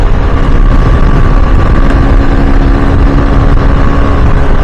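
A food-delivery motorbike ridden in Saudi Arabia at over 100 km/h gives a loud, steady engine drone mixed with heavy wind rush throughout. The sound is constant and close, and no one speaks.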